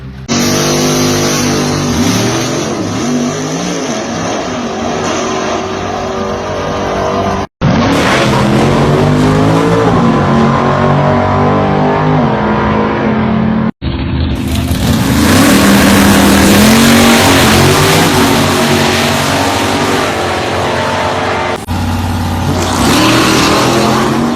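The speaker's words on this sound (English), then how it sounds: "This is my 1967 Plymouth Barracuda." A 1967 Plymouth Barracuda 440 drag racing, its loud engine roaring and revving continuously, with a few abrupt cuts between passes and a racing, high-power sound.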